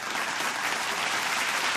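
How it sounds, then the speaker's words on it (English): An audience gives a round of applause for Sydney at a water-facts presentation, a steady wash of many hands clapping at moderate level throughout, with no pauses. "can we have a round of applause for Sydney here?"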